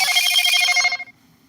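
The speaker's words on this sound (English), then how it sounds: "That's my alarm." A phone alarm rings in steady repeating bursts, loud and close, for about a second before cutting off into quiet room tone.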